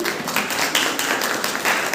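A crowd claps steadily, a dense patter of many hands filling the room without pause, fairly loud and close.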